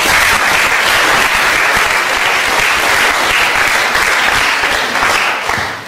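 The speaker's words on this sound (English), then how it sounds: "Okay, give them a big round of applause." Audience at a physics lecture on relativity giving a big round of applause, loud dense clapping sustained evenly throughout and easing slightly at the very end.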